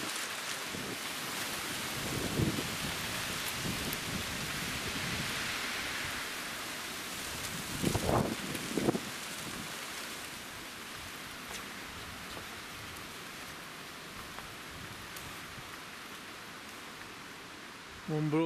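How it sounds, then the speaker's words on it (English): Strong wind buffeting a flowering banana plant: steady broadband roar fills the whole stretch, with a few louder gusts or buffets rising briefly above the constant rushing. "Still windy."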